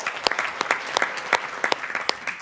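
Crisp audience applause at a school district award ceremony honoring classified staff, with individual sharp claps standing out from a moderate indoor crowd over a short burst.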